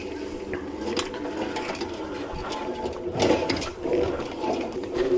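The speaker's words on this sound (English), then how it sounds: "let's go down there and see how it gets up this hill." A Mowrator S1 AWD remote controlled lawn mower driving over soggy, wet ground toward a hill, giving a steady mechanical whirring and grinding drone with rising surges, heard alone and fairly close.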